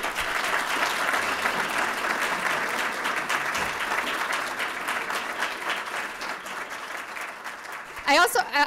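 An audience claps steadily in a lecture hall for a welcomed professor, sustained applause that fills the space and tapers off, with a voice beginning to speak near the end.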